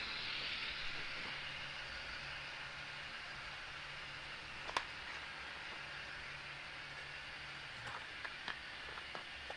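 Faint steady hiss and low hum from a BLI PRR Baldwin Centipede model diesel locomotive, with a single sharp click midway and a few small ticks near the end.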